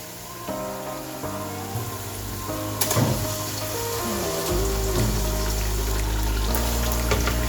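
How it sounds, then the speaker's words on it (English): Blended tomato paste is poured into a pot of Nigerian beef stew, giving a thick liquid gurgle and splash that builds and carries on steadily, close and fairly loud, with no talk. "So now it's time for us to add the blended tomato paste."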